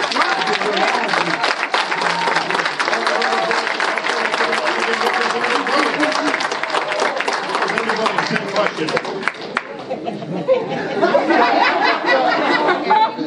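A crowd at a mayoral race event in Delaware applauds, with dense clapping mixed with chatter and some laughter, loud and sustained throughout.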